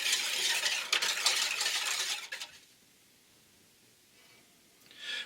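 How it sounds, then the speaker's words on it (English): A whisk scraping quickly through a milk mixture in a pot over medium heat, a bright brushy swishing for a couple of seconds, then near quiet before a brief swish returns. "we're going to whisk these together over medium heat"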